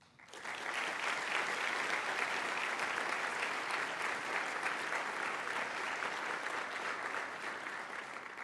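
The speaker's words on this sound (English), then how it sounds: "So let's give a round of applause for our family, friends, mentors," Steady audience applause at a scholarship finalists' welcome event, dense sustained clapping from a large crowd holding at an even level for several seconds, heard alone without talk.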